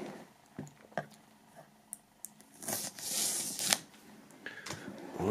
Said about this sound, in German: Bevor wir starten, werden wir mal die Folie erledigen.